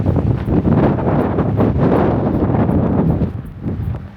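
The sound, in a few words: strong mountain wind blowing on snowy slope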